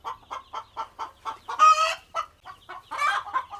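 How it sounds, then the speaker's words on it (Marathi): Large chickens in a poultry shed give a run of rhythmic, close clucks, with two louder, drawn-out squawking calls breaking in over the steady pattern. "ह्या मोठ्याल्या कोंबड्या आहेत."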